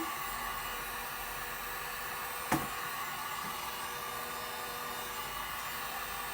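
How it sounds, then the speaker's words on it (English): A hair dryer blows on chalk paint on a craft pumpkin with a steady, even rush of airflow throughout, broken only by a single brief click partway through. "I'm going to hit this with my dryer and see if we can get this dry"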